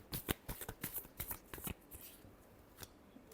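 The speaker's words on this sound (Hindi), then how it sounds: "last shuffle" A deck of tarot cards is shuffled by hand up close, a quick series of crisp riffling flutters and soft slaps that fades into a faint pause, then one last flick.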